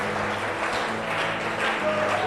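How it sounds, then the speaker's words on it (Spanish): A church congregation applauds during a Spanish-language worship service, a continuous, fairly loud rush of clapping with a faint tonal hum beneath it. "Démosle un aplauso al que vive"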